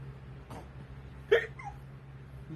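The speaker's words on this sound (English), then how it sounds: "Those hiccups are bad." A girl or woman hiccups twice, short, faint, abrupt catches about a second apart over a low background hum.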